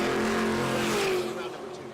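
A drag racing car at Tulsa Raceway Park roars loudly for about a second, then fades, under commentary.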